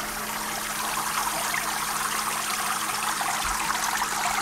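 Hoshizaki commercial ice maker with its pump running during the wash cycle, water rushing and splashing in a steady, loud, continuous stream with a faint low hum underneath and no voices.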